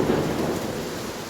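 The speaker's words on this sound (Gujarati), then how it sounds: "ગાઢ અવાજ પણ થાય છે વીજળી સાથે." Thunder rolls low and heavy over steady rainfall during an unseasonal Mumbai downpour, a loud rumble fading into the hiss of rain, with no voices.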